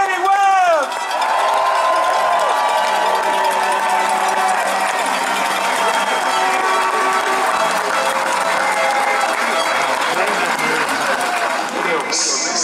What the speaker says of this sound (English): I just want a huge round of applause for Danny Webb